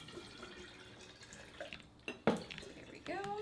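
Tap water runs into a jar being filled for homemade water kefir. There is a steady trickle with a few louder splashes and clinks toward the end, fairly close and at moderate volume.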